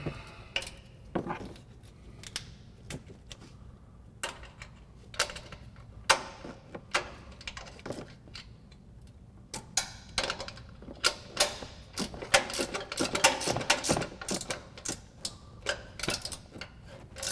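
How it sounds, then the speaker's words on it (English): A 15mm wrench tightening the top three strut mount bolts on a Ford F-150, sounding as a quick irregular series of sharp metallic ratcheting clicks, sparse at first and then denser and louder toward the end. "Now we go ahead and tighten down the top 3 strut mount bolts using our 15mm wrench."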